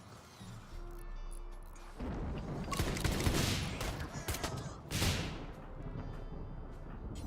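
Gunfire erupts during a firefight in heavily modded RimWorld: loud, dense volleys of shots with crashing impacts, building from a quieter start into sustained rapid bursts with short lulls, and no talk over it.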